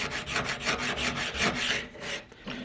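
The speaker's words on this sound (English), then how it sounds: "then I use a sanding block" Close, rhythmic rasping strokes of 120-grit sandpaper on a sanding block rubbing back and forth over the wood of a guitar build, about a dozen quick passes, fairly quiet.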